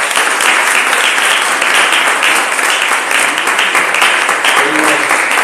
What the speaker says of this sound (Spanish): reciban un fuerte aplauso de bienvenida